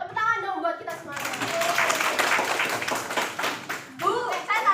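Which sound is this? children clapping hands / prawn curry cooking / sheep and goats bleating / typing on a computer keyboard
children clapping hands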